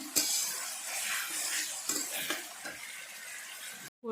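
Onions frying in oil in a pan until deep red-brown, a steady close sizzle with a few soft stirring scrapes and clinks.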